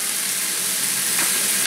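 Bok choy and spicy pork stir-frying in a hot pan, a dense, loud, continuous sizzle and hiss with light scraping of stirring, close up and without talk.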